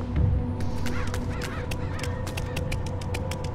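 Harsh bird caws ring out repeatedly in the stealth video game Mark of the Ninja, layered over a steady ambient game soundtrack and drone, with no voices.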